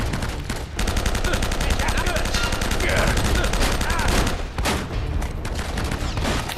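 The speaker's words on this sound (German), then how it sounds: "Da ballert mein ganzes Magazin" Loud, sustained bursts of automatic gunfire and rapid shots from the PS3 video game Uncharted 1, filling the whole stretch almost without pause.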